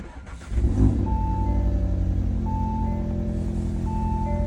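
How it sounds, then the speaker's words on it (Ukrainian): An Audi TTS engine cranks and catches with a short revving burst, then settles into a steady, close exhaust idle. "Все запускається, працює."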